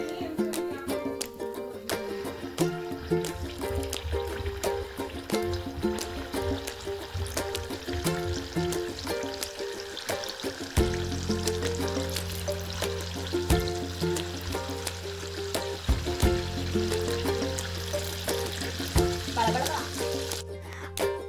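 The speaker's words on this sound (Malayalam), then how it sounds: "ഇനി നമുക്ക് കുറച്ച് മാവ് ഗ്ലാസ്സിലോട്ട് ഊറ്റിയിട്ട് നമുക്ക് എന്ത് ചെയ്യാം, പതിയെ കുറച്ചായിട്ട് ഒഴിക്കാം" Unniyappam batter is poured slowly into hot oil in a Kerala kitchen and sizzles steadily, the frying hiss mostly masked beneath continuous background music that swells with a deeper tone partway through.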